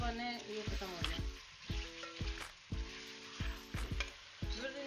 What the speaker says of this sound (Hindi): अब इसको भी अच्छे से भूनेंगे ताकि जो लहसुन और अदरक का जो कच्चापन है ये खत्म हो जाए